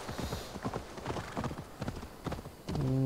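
Hooves of a horse in Assassin's Creed Valhalla clip-clop in a quick, steady rhythm, close and clear, before a louder tonal sound cuts in at the very end.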